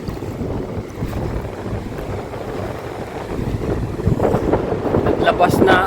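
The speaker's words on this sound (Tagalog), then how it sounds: "Naglabas na ang tubig ang ang dam. Ayun, oh, lakas ang agos." A strong river current surging after water is released from a dam, a loud, steady rushing roar with wind buffeting the microphone, building slightly louder toward the end.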